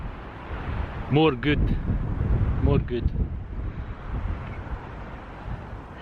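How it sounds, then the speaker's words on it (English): Wind blows across a hilltop in Scotland, producing steady broadband rumble and buffeting on the microphone throughout, while someone speaks briefly over it. "See the wind? It's very windy up here."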